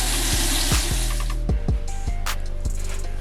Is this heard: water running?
yes